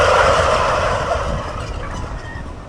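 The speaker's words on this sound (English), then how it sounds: "So they just gobbled." Loud chorus of tom turkeys gobbling together inside a barn, a dense overlapping burst that trails off gradually over a few seconds, with no talking.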